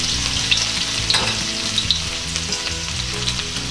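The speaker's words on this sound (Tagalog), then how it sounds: "Ngayon ay igigisa ko na po yung bawang" Garlic sautés in hot oil for a Filipino beef kaldereta, giving a dense, close crackling sizzle with small pops and spatters and no talking.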